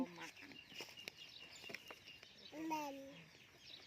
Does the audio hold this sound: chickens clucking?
yes